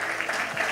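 A church congregation claps during an evangelical service, a soft, continuous patter of hands heard at a distance for a brief moment.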